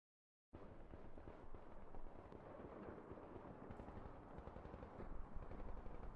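Massed machine gun fire in an Ultimate Epic Battle Simulator beach landing battle between German and US armies, a continuous dense crackle of distant automatic bursts that starts abruptly after a brief silence and swells slightly toward the end.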